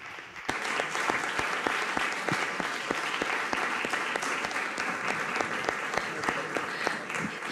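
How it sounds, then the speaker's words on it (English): An audience at an awards press conference applauding the cinematography winner, Florian Ballhaus: steady, dense clapping from a modest crowd, close and even throughout, with a few sharper individual claps standing out. "Warm round of applause for him, please."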